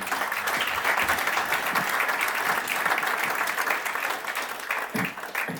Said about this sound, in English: A big round of applause for Aidan Atkins, please